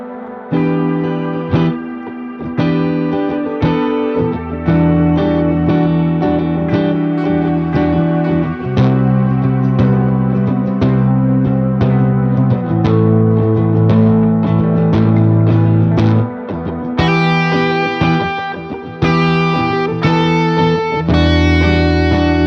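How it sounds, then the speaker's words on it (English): A homemade electric guitar with dual humbuckers and a coil tap plays a loud, steady run of strummed chords with effects, changing shape every few beats and brightening near the end, with no voices. "With dual humbuckers from Guitar Fetish and a coil tap for those single coil tones,"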